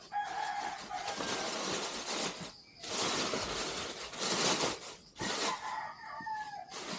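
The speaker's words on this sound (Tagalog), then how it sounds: "Tugaok ng mga manok." Several roosters crow in turn, long drawn-out calls repeating one after another, fairly close and loud against quiet farmyard background.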